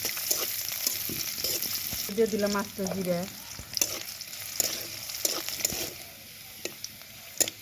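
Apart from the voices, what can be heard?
frying in oil in a pan for taro leaf curry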